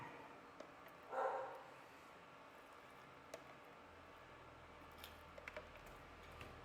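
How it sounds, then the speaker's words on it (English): A guard dog barks once in a short, muffled burst at a distance, otherwise a quiet outdoor backdrop with faint clicks and rustles while someone prepares camping pasta. "My guard dog barking."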